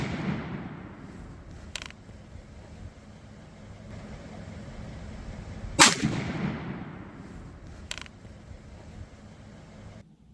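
A .450 Bushmaster rifle firing a heavy 250-grain bullet into concrete blocks gives one sharp, loud report in the middle, with fainter cracks just before and after it over a steady outdoor hiss.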